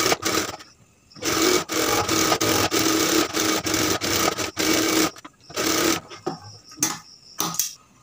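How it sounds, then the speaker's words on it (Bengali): A sewing machine stitches all around the open edges of kameez fabric, running in steady bursts with short pauses between runs, close and fairly loud, with no talking. "এই চতুর্দিক দিয়ে একটা সেলাই করে দিবেন"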